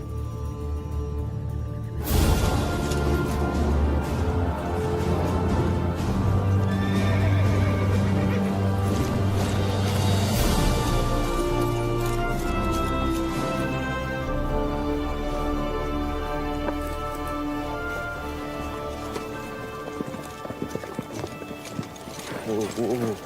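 A horse neighs and whinnies in a western film scene, with clip-clopping hooves. The sound is loud and close after a sudden start and carries on under a swelling music score throughout.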